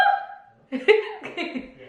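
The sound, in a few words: hiccup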